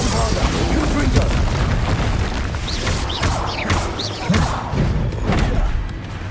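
Explosive Bombarda and Confringo spells cast in Hogwarts Legacy combat; repeated booming blasts and thuds among whooshing spell effects, with a voice speaking over the fight.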